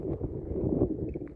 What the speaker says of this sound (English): Now here's the wind